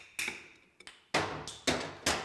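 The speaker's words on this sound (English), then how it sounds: "What you want to do is slightly tap it with a hammer" A hammer tapping a wrench to work a gear loose, several sharp metallic strikes with ringing decay, a couple of lighter taps first and then three harder, evenly spaced blows, close and loud.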